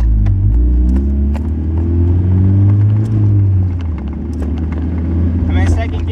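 A car with a manual 5-speed gearbox pulls away from a stop, its engine rumbling and climbing in pitch as it accelerates, heard from inside over steady road noise while someone talks.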